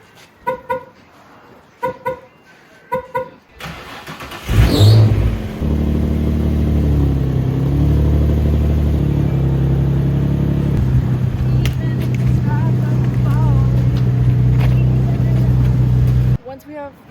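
A Z car engine cranks and catches after a few short sounds, then rumbles loudly and steadily nearby as the car is driven out, with a voice heard briefly at the start.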